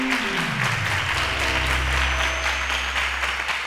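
Audience applause on a quiz show, a steady wash of clapping under a low, falling musical tone that settles into a sustained bass.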